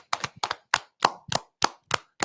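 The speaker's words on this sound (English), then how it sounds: "Let's clap it up for the Most High." Rhythmic clapping at a Bible teaching on heaven, about eight sharp claps in steady time over a couple of seconds, fairly close and distinct with no talk over them.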